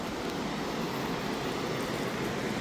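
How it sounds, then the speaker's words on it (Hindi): A river near Chamoli in the Himalayan foothills rushes steadily, heard from inside a room as an unbroken, fairly loud broadband roar with no pauses or voices. "ये नदी की ध्वनि है।"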